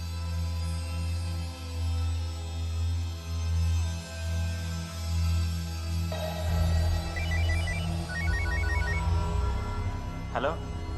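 A telephone rings with a repeating electronic ringtone over a droning, pulsing background hum, moderately loud and close, with a short burst of other noise near the end.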